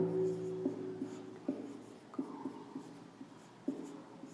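A pen or marker writes a name onto a world map in a string of short, scratchy strokes with small taps between them. The strokes are close and quiet, and no one talks.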